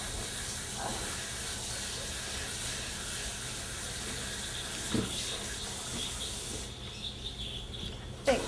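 Tap water runs steadily over the lid of a pressure cooker held in a kitchen sink, a continuous soft splashing wash that thins out near the end, ending with a faint clink.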